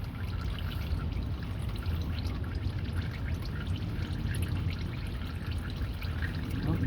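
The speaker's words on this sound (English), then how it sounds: "let's let that drip out as much as possible" Old engine oil draining from a 1999 Lexus ES300 into a pan, a steady close pouring trickle with a faint dribbling texture, continuous and unbroken throughout.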